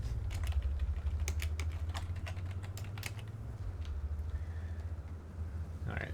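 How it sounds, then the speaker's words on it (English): Rapid clicking keystrokes on a computer keyboard rattle on in uneven bursts over a steady low hum, close and fairly loud, thinning out near the end. "I need to stop typing."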